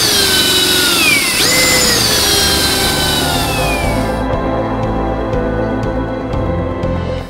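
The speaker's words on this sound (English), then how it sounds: "So I've used a very small hole saw" A small hole saw drills through a shelf to fit a pipe for an MVHR ventilation setup, a loud close whine that rises and falls in pitch before it cuts off into lighter rattling and clicks.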